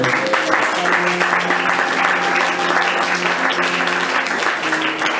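A church congregation applauds, with continuous, loud, dense clapping filling the room for several seconds over faint sustained tones.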